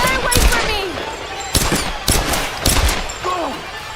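Video game gunfire comes in several sharp loud bursts of shots spread across a few seconds, mixed with game effects and a voice talking over the action.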